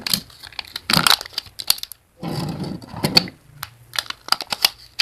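Sticky wrapping on a slime package being peeled by hand: a run of crackly, tearing bursts and small sharp clicks, close and fairly loud, with short pauses between pulls.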